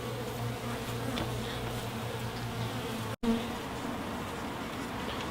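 A steady, dense hum of many honey bees buzzing close by at a newly installed nuc hive, continuous and even, broken only by a momentary cut partway through.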